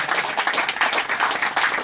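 Church congregation clapping as an offering to God after a healing prayer, a steady, moderately faint wash of many hands with little talk.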